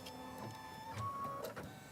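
Embroidery machine moving and stitching nearby, a soft mechanical whir with shifting motor tones and faint tapping over a steady background.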